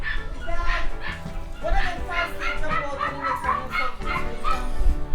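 Dogs barking and whimpering amid a Jamaican setting, with people talking over the short yips and barks throughout.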